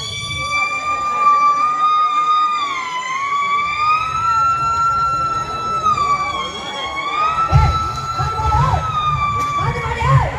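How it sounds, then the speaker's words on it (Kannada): A wailing ambulance siren rises and falls steadily, loud and close, with traffic rumble underneath and a brief voice near the end. "ಸೈಡ್ ಸೈಡ್ ಆಂಬುಲೆನ್ಸ್ ಬರುತ್ತೆ"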